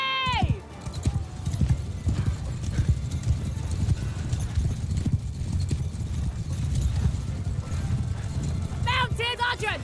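Cavalry horses galloping in the medieval battle game Mount & Blade 2: Bannerlord, a dense, steady drumming of many hooves close by, with a neigh at the start and a voice briefly speaking at both ends.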